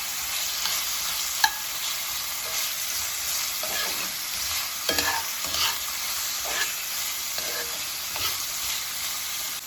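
A utensil scrapes the bottom of a pan after browning beef and celery for a pot roast, with soft, scattered scraping strokes over a faint steady sizzle and no talk.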